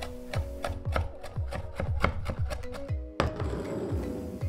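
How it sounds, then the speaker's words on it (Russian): A knife chops garlic rapidly on a cutting board, a fast run of close, crisp taps, pausing briefly before the chopping resumes. "Измельчаем его с помощью чеснокодавки, либо с помощью ножа."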